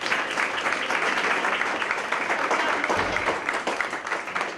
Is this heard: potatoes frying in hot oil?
no